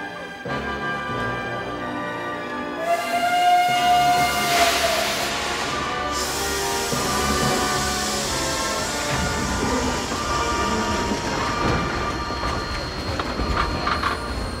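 A train rumbles steadily throughout with a dense clatter of wheels on track and a brief horn or whistle tone early on, loud and close, with no speech.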